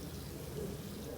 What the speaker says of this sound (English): So I add quite a bit of water